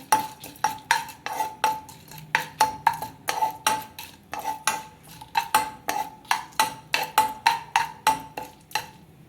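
A metal spoon stirs frying tempering spices with asafoetida in oil in a kadai, a steady series of quick, bright scraping clinks close by with no talking.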